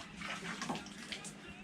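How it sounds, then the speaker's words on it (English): Running tap water splashing over hands being washed during a fish filleting session, a steady close rush of water lasting under two seconds with no talk. "Just wash my hands a bit."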